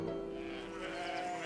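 A sheep bleats near a field in a countryside village, one sustained wavering call heard clearly on its own.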